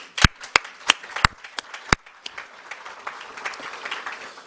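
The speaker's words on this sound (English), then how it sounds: "you should all give yourself a round of applause." Scattered claps from a conference audience at a UK home care association event, a few sharp distinct claps at first, then softer, thinner clapping trailing off.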